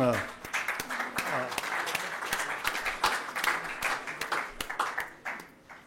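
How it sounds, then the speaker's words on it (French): A conference audience at Agile Tour Montpellier 2019 applauds the women present, with a burst of close, uneven hand claps, individual sharp claps standing out over the crowd sound. "je voudrais que, messieurs, vous applaudissiez toutes les dames qu'il y a"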